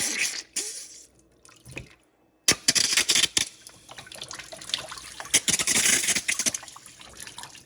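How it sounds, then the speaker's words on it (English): Air and water sputter out of a 20-inch Big Blue sediment filter canister as it is vented, a close, irregular run of hisses, drips and splashes with a quiet pause before a louder burst. "But now what we'll do is release the air out."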